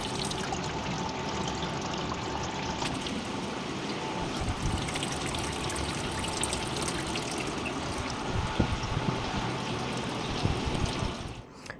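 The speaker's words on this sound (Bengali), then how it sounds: "এই জলটা উপরে ওঠা শুরু হয়ে গেছে এবার এটাকে আমরা ড্রেন করব" Dirty water drains out of an air cooler in a continuous gurgling, splashing pour that stays steady and close throughout, ending with a brief clatter; no voices.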